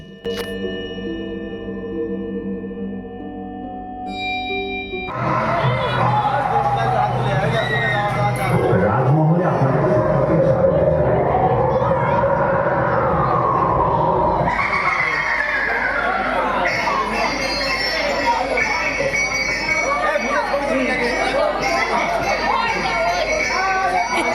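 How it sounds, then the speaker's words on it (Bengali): A large crowd chatters and shouts at a haunted ghost-palace puja pandal in Krishnanagar, a dense, loud babble of many voices. Music plays at the start, and a spoken voice runs over the hubbub. "ভূতের প্যান্ডেলটি দেখার জন্য বহু মানুষের ভিড় জমেছে"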